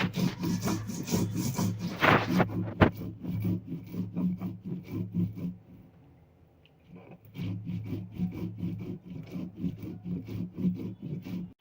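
Spices are ground by hand on a sil-nora grinding stone, a rough rhythmic rubbing and scraping of stone on stone in quick repeated strokes, close and fairly loud, pausing briefly midway before resuming.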